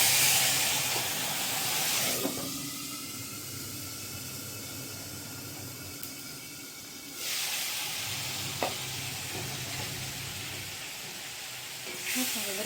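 Cumin seeds and bay leaves sizzle in hot oil as a tempering for dal, a steady close hiss that flares loudly twice as more goes into the pan, with faint kitchen clatter.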